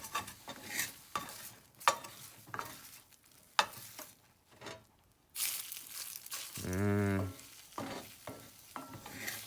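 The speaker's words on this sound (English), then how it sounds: "I'm using a wooden spatula on this" A wooden spatula stirs food in a warm cast iron pan over low heat, giving intermittent scraping strokes with a soft sizzle beneath and a brief low hum midway.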